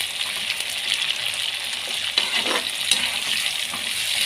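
Tomatoes sauté in a pan for vada curry, a continuous bright sizzle and crackle with occasional stirring scrapes, close and moderately loud with no talking.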